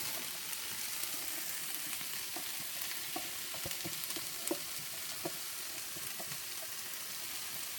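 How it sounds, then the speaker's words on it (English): Steady frying sizzle of onions and peppers being stir-fried, with scattered pops and the occasional clink of stirring, continuous and fairly close, no voices. "Then I'm going to add the onions and peppers."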